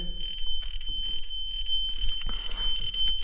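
Renault car's handbrake warning beeping inside the cabin, a steady high-pitched electronic tone that holds throughout over a low idle rumble and scattered faint clicks.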